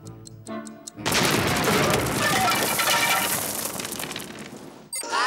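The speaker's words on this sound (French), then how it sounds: "Un obus israélien va tomber dans 3 secondes." An Israeli artillery shell lands and explodes: a few light tones give way to a sudden loud blast whose crackling, rumbling debris roar fills several seconds before cutting off abruptly.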